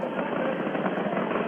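Falcon 9 rocket engines roar during the Crew Demo-2 launch, a steady, dense broadband rumble heard from a distance with no breaks.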